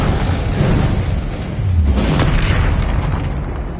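Confringo fire spells explode in the Hogwarts Legacy video game, a loud continuous roar of booming blasts and fiery bursts that fills the whole moment, close and dense with no pauses.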